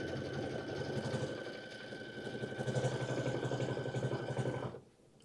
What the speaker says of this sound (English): so I'm going to leave the silver metallic in, and so it's going to tack my backing, so we'll sew